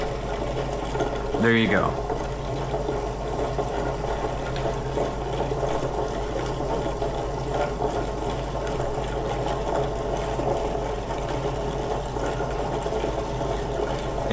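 A Lortone rock tumbler turning coins dug up while metal detecting gives off a steady mechanical hum and churn that runs unbroken and fairly loud, with someone speaking briefly near the start.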